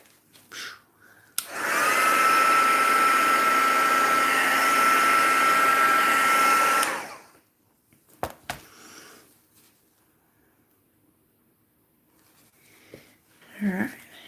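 Crafters Choice heat tool blowing hot air in a steady, loud whoosh for about five seconds, then cutting off, with faint handling noises and a brief soft rustle near the end.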